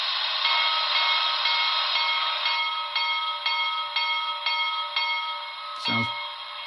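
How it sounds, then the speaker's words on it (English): An HO scale BLI NYC Hudson model steam locomotive's sound decoder rings its bell in a steady repeating clang over a constant hiss, close and even, then a brief clunk near the end. "Function 1 is bell."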